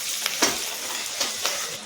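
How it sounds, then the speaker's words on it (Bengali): Onion fries in a pan with a steady close sizzle, broken by a few soft stirring scrapes at irregular intervals. "এই দেখো পেঁয়াজটা ভাজা হচ্ছে।"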